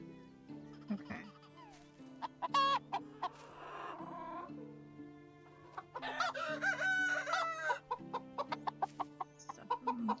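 Chickens cluck and a rooster crows on a farm in the medieval game Medieval Dynasty, with bursts of rapid, close clucking and squawks over a steady low drone, growing busier toward the end.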